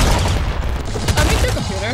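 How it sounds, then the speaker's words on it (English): Golden grenade launcher fire in Nuclear Throne rings out as loud, dense bursts of game gunfire and explosions over busy background noise. "This grenade golden launcher is actually really good."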